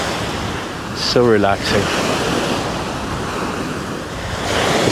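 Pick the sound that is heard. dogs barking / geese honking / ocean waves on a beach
ocean waves on a beach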